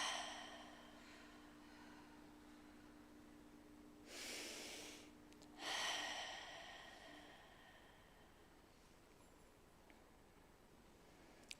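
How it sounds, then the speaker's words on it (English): A group takes one deep breath together during a guided meditation, with a soft broadband inhale followed by a slightly louder exhale in the middle of an otherwise quiet room. "We'll just start by taking a deep breath together and letting it out."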